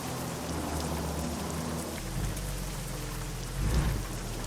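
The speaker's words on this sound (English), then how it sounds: "It's a little unfortunate that we wake up to the rain and it's some ungodly hour." Rain in the video game American Truck Simulator, a steady hiss of falling rain with a soft low rumble underneath, fairly quiet and continuous, with no one speaking.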